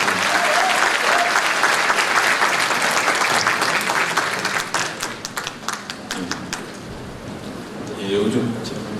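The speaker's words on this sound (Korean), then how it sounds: "끝까지 자리 지켜준 4분 후보님께 박수 한번 다시 부탁드립니다" An audience at a political talk concert bursts into sustained clapping applause that stays loud and dense for several seconds, then thins and fades toward the end.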